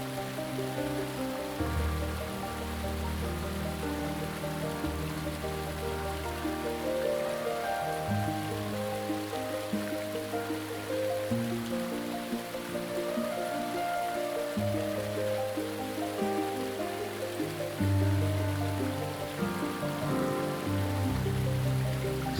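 Water drips and trickles into small basins around a stone column in the limestone caves of La Balme in Isère, a continuous patter of scattered drops with resonant low plinks, steady and moderately close.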